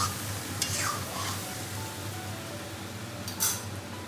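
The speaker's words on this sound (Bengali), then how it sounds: "ছোলাটাকে আমি একটু ভেজে নিচ্ছি, তারপরে ছোলার মশলা থেকে কষতে দিয়েছি, সেখানে হচ্ছে ছোলাটা ফ্রাই হচ্ছে" Chickpeas fry in a pan with a low steady sizzle and hum, a few brief bright scrapes and clinks of stirring, quiet and close with no talk.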